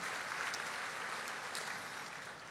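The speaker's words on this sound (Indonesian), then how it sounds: "Kasih tepuk tangan yang meriah buat Tuhan." A church congregation applauds together in a sustained, dense wash of clapping that holds steady throughout, moderately distant and without any voices on top.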